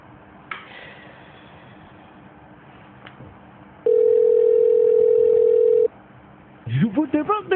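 A phone call rings out as a single steady, loud electronic tone lasting about two seconds over faint background noise, followed by a voice starting up near the end as the call goes to voicemail.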